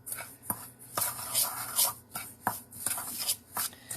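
Melted butter being stirred into a crust mixture in a bowl, giving a string of short scraping, clicking strokes at a fairly steady rhythm, close and moderately loud with no talking.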